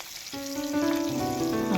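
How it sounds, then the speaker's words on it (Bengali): Pieces of a very large tengra fish, about three and a half kilos, fry in oil in a pan with a brisk close sizzle under tonal background music. "এপিট এপিট করে লাল করে ভেজে"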